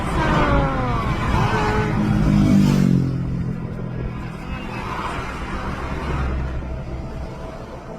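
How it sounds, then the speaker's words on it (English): Traffic on a highway heard from the roadside, a close vehicle roaring past with a falling engine pitch, followed by a steady rumble of more distant cars. "it sounds like they're on the side of the highway"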